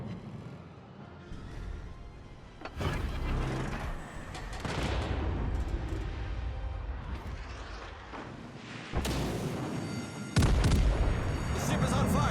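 Naval gunfire from warships in World of Warships thunders in heavy, rumbling booms over a continuous roar of battle, with several loud salvos; someone talks over the action.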